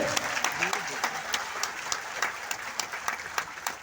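An audience at a business seminar applauds a husband and wife being welcomed on stage. The crisp clapping is moderately close but fairly quiet, and faint talk sounds at the start.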